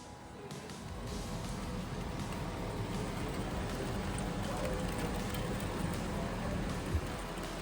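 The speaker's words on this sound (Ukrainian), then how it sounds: "щоб день, коли ми приїхали, падав ось такий сильний дощ" Heavy rain pours steadily in Bratislava, a dense, even hiss of drops hitting the ground throughout, constant and fairly loud with no pauses.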